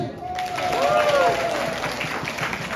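A crowd applauds at a Team Kalingap community foundation gathering, with a steady wash of clapping lasting a few seconds over a faint tonal hum.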